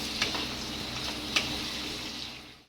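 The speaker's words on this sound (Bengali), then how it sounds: "পেঁয়াজটা আমি লাল লাল করে ভেজে নেব" Salted onion sizzling softly in a hot pan, a steady close frying hiss with a couple of faint clicks, fading out at the end.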